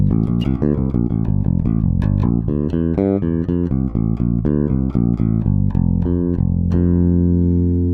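An electric bass played on its neck pickup plays a run of thick, round notes, close and sustained, ending on a held low note.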